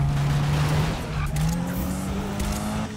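A car in Need for Speed skids through a failed handbrake drift, tires squealing over a loud, steady engine drone that lasts the whole stretch.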